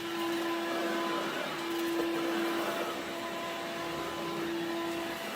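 A Bosch Serie 2 cordless vacuum cleaner runs steadily and fairly loud, a constant motor whine with a broad airflow hiss and no talk.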